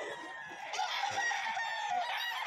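A rooster crows close by amid clucking chickens, with a busy, noisy background of other fowl at a crowded pet market in Bocaue, Philippines.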